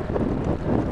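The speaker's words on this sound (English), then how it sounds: "pushing against the wind's like going uphill." Wind buffeting a cyclist's microphone on a windy autumn bike ride around town, a loud, rumbling, continuous gusty roar with no talk.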